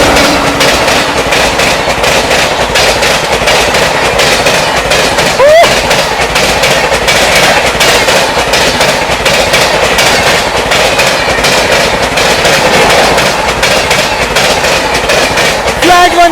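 The Sealdah–New Delhi Rajdhani Express passes close at speed, a loud, continuous roar of wheels with steady clickety-clack rail joints and a brief horn note, filling the whole stretch while someone talks faintly beneath it.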